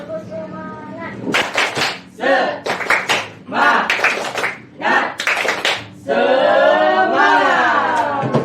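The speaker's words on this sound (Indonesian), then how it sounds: "yuk kita tepuk semangat lagi, ya, semangat lagi" A group in a school classroom performs a rhythmic spirit clap chant, sharp bursts of clapping in quick patterned clusters alternating with chanted voices, close and loud, ending in a sustained sung shout.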